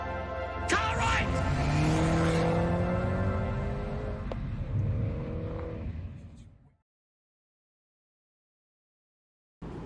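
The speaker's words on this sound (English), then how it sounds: "Aston Martin V8 Vantage, and what a day to be driving this car on with the roof off." Aston Martin V8 Vantage engine drives by with the roof off, a loud steady drone that rises and fades away, then cuts out and leaves silence.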